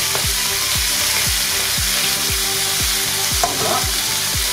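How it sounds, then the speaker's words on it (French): Meat sizzling in a hot wok, a steady loud frying hiss with regular rhythmic stirring or tossing knocks repeating about every half second, close up with no talking. "Donc voilà, je mets la viande."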